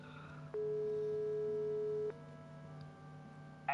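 A steady electronic phone tone sounds in the Broken Sword 5 adventure game, holding one clean pitch for about one and a half seconds before stopping, with quiet background hum around it.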